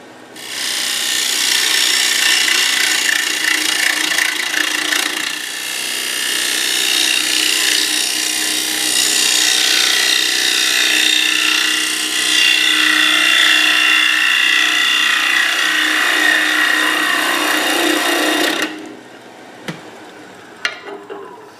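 A winged wooden bowl spins on a lathe while a gouge cuts it, a loud continuous rough scraping that pauses briefly, then stops abruptly, leaving a few faint knocks.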